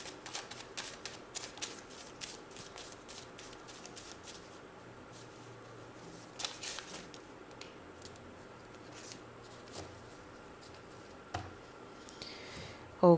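Tarot cards are shuffled in quick, soft, repeated riffling flutters, close and quiet, in a calm room with no talking.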